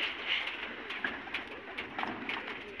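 Pigeons kept for pigeon-flying competitions coo softly in a steady, repeated murmur, mixed with light fluttering and outdoor background noise.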